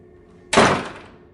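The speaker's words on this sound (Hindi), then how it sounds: "13B का दरवाज़ा ज़ोर से बंद हो गया।" The door of flat 13B slams shut with one sudden, loud, heavy thud that rings briefly and fades, heard alone against near silence.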